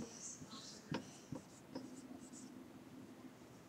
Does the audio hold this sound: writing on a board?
yes